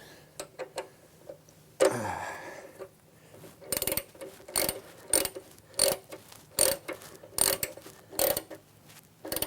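A hand tool snugs down a fastener on a Segway kickstand, with a run of sharp ratcheting clicks in an irregular rhythm, close and crisp against a quiet background.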